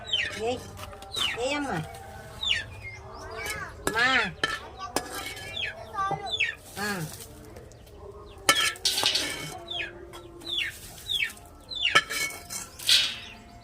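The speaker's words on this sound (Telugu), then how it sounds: "కోడి పిల్ల వచ్చిందంట బియ్యం అంటే వేసిద్దంట" Chickens, including a young chick, cheep and cluck near a hotel kitchen in the early morning. Repeated short, high calls come in quick bursts, close by and mixed with clattering dishes and stirring.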